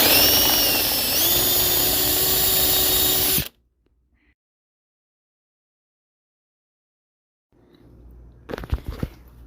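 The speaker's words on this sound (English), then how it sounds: "Round 2 of drilling and tapping." A power drill whirs loudly and steadily while drilling out a gas tank bolt hole on a 1998 Honda CBR900RR, stops abruptly, then after a silence a few sharp metallic taps and clicks follow close by.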